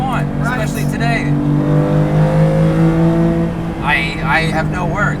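A Guntherwerks 400R being driven, its engine holding a steady droning note heard from inside the car, rising and falling slightly as it pulls, while people talk over it at the start and end.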